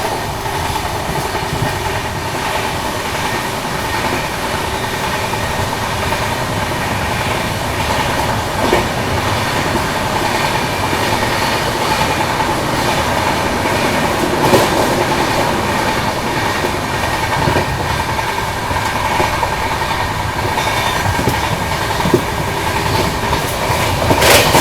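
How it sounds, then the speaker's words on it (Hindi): The Paschim Express, running from Mumbai to Amritsar, rolls on rails with a loud, steady rumble and rhythmic clickety-clack over the wheels as it slows down, heard close from inside the coach. "पूरी स्लो डाउन हो गई है स्पीड अपनी ट्रेन की"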